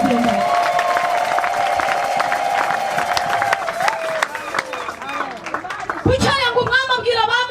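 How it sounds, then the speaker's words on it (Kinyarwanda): A church congregation bursts into applause and cheering, loud and close, with crowd chatter throughout and a voice speaking over the clapping. "muyikomera amashyi niba mwayagenda"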